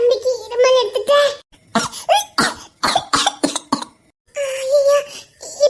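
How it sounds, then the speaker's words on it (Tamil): A little boy coughs in several sharp, harsh bursts, with pauses between them, close by. His own voice sounds around the coughs, and he whimpers or talks at the start and end. "ஐயோ தம்பிக்கு இருமல் எடுத்துட்டேன்"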